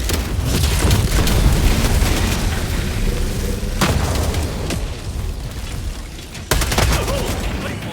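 Heavy booming blasts erupt repeatedly in the video game Helldivers, with a loud burst near the start, another around midway, and a sharp one later, amid constant rumbling game gunfire.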